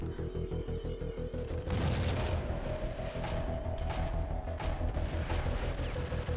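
The Jackhammer automatic shotgun in the Max Payne video game fires in a rapid rhythmic burst of heavy booming blasts, followed by a dense, sustained roar of gunfire and explosions, loud and close.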